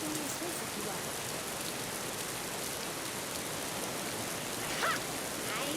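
Rain falling steadily outdoors in the video game Raw Danger, a soft, even hiss of drops on surfaces with a faint brief tone near the end.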